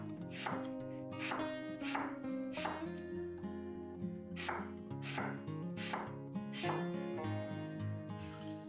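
A knife chops eggplant into pieces about 1.5 cm thick on a cutting board, sharp regular strikes roughly every half second, close and moderately loud with no talk.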